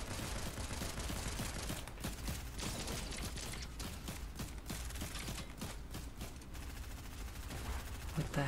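Fortnite gunfire in the Mega City area, a continuous dense stream of rapid shots and clattering bursts filling the whole stretch, loud and close with a busy mechanical texture throughout.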